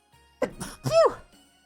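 A game character from Trails in the Sky SC sneezes once, a short voiced burst with a rising then falling tone after a brief inhale, heard alone and fairly close.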